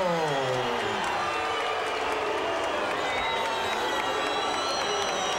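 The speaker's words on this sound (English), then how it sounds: "some mixed reaction from the crowd here" Boxing arena crowd at a heavyweight bout reacting to a split technical decision, a dense roar of cheering, clapping and mixed shouting that stays loud and sustained throughout, with a commentator's voice over it.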